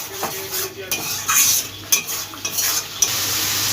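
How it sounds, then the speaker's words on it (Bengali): Spice paste stirred and fried in a pan over raised heat for an aor fish kalia, with clattering utensil scrapes against the pan over a continuous sizzle, close and fairly loud, no speech. "মশলাটা ভালোভাবে কষিয়ে যতক্ষণ না মশলা থেকে তেলটা ছাড়বে ততক্ষণ ভালোভাবে কষিয়ে যেতে হবে"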